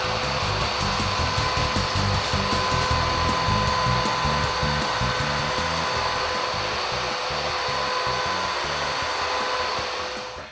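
A vacuum cleaner runs steadily on carpet, sucking up a pet stain removal powder, a continuous loud whirring drone that holds even throughout with no talk.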